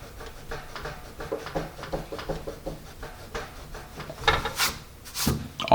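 A Pink Pearl eraser rubs back and forth over pencil marks on paper in quick scratchy strokes that grow louder and rougher toward the end.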